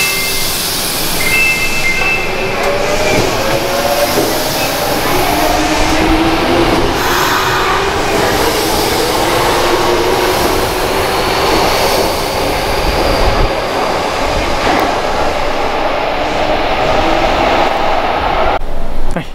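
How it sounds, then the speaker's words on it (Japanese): A Kyoto Municipal Subway train pulls into an underground platform, a steady loud rumble with rising and falling motor whine and squealing tones that holds throughout, and a station approach melody plays faintly in the background. "接近メドレーを聞きながら、京都市営地下鉄の入線です"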